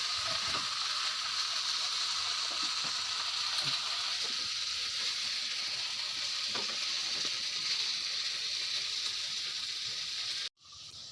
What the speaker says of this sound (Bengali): এইদিকে মাংসের আলুটা ভেজে নেওয়া হচ্ছে